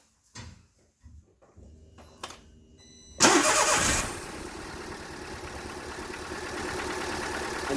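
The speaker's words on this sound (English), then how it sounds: "So we'll start the vehicle up." A car engine is started during an alternator charge test: a few quiet clicks and clunks, then a sudden burst as it cranks and catches, settling into a steady idle.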